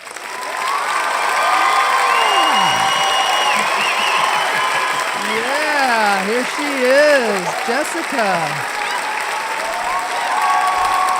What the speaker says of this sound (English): It's a lot of applause for it.